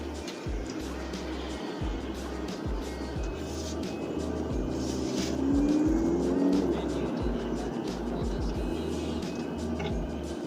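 A 2010 Volkswagen Golf GTI MK6 on a test drive, its engine humming steadily from inside the cabin with road noise and a brief swell in revs, loud and continuous throughout.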